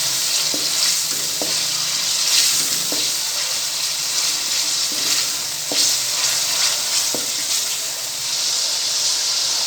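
Tomatoes and capsicum fry in a pan for restaurant-style palak gosht with spinach and mutton, a loud continuous sizzle and hiss broken by several sharp stirring clinks and scrapes, with no talking.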